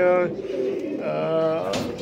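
Pigeons coo in a low, throaty warble at a fancier's loft setup, several overlapping calls close by and continuous, with a voice speaking alongside.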